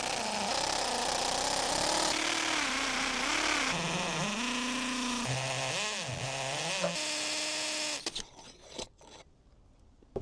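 A very long drill bit bores through a house wall, its motor whining loud and steady with pitch dips as it bites, then cutting off into a few short knocks near the end.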